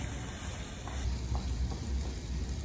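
Paella rice sizzles steadily as it fries in a pan and is stirred, with a constant crackling hiss and a few soft scrapes of the utensil, close by and with no voices.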